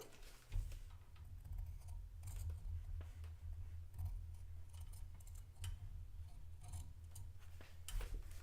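Scissors cutting material for a miniature townscape cone-shaped cape and dress, heard as faint, irregular snips over a steady low hum.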